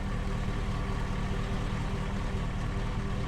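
A truck engine idles steadily, a continuous low rumble with a dense broadband hum that holds even and unbroken throughout, close and fairly loud with no voices.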